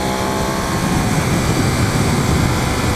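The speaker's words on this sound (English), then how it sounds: "I like the sound of the Ducati" A Ducati 848 Streetfighter motorcycle engine gives a loud, steady roar with a sustained droning hum, close and unbroken throughout, no speech.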